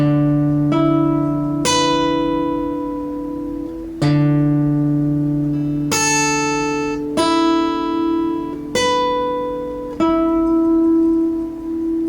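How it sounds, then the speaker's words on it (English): An electric guitar plays a slow riff from a song, with single plucked notes and sustained chords spaced a second or two apart, each ringing out clearly with no talk. "So the whole riff sounds like this, really slow."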